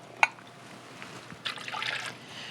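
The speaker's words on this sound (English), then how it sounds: "we also want to add to this a half a cup of water and some red wine vinegar, 1/3 cup of red wine vinegar" Half a cup of water and then red wine vinegar pour into a bowl of chipotle steak marinade: a sharp splash at the start, a quiet pause, then a brief trickling pour, close and fairly soft.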